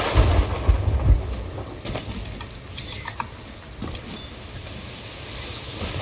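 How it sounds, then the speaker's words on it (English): During a lightning storm in the pirate game Sea of Thieves, thunder rolls in a deep burst at the start, then rain patters steadily with scattered crackles and drops, fairly loud and continuous with no voices. "Not a good place to be in a lightning storm"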